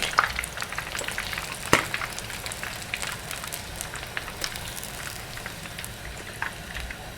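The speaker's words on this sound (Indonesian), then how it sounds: "ini goreng ikan yang ini juga cukup ya" Fish frying in oil in a pan gives a dense steady sizzle with scattered crackles and pops, close by and continuous, with no talking over it.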